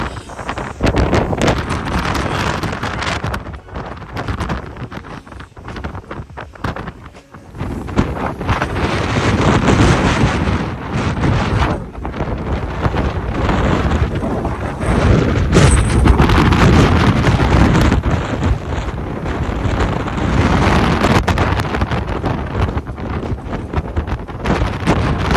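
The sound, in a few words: wind blowing, wind noise on microphone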